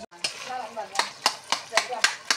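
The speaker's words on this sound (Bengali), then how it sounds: "এখন মিশানো হবে তারপর আলুগুলি মজবে ভালোভাবে" A spoon stirs potato, yardlong bean and fermented fish chutney in a pan. It makes about eight evenly spaced scraping strokes, close and clear over a soft sizzle.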